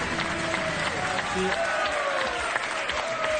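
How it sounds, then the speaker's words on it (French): A TV studio audience applauds guests with a steady wash of clapping, while a presenter's voice speaks over it. "On applaudit Cyril et Hervé."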